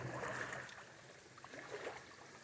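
Someone wades on foot through a shallow woodland stream, with water sloshing and splashing around each step and a faint trickle beneath, no talking.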